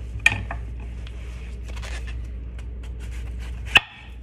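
A knife cuts through fresh watermelon with two sharp chopping knocks on a board, one near the start and one near the end, close and clear over a quiet hum.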